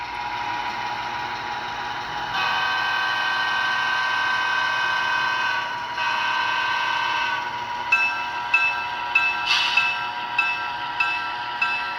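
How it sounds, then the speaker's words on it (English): A Soundtraxx Tsunami 2 sound decoder in an Athearn Genesis model locomotive plays steady diesel engine rumble with a brighter tonal horn-like layer, followed by several short sharp bursts and tones, loud and close with no speech. "like all good Soundtraxx decoders, this thing's got a myriad of sounds in it"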